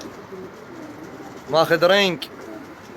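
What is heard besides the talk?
racing homing pigeons cooing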